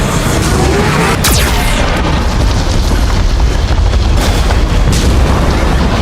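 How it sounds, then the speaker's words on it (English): A Geth cannon fires in the video game Mass Effect 2, producing loud, continuous booming explosions with sharp bursts near the middle and end, filling the whole stretch with dense rumbling noise. "Warning, Geth cannon is locking on our location."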